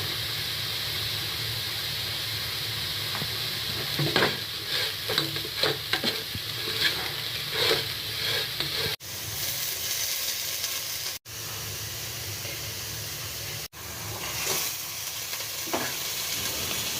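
Onions frying for bhuna khichuri, with ginger and garlic added: a steady sizzle and hiss runs throughout, broken by repeated close scraping stirs and a few short clatters.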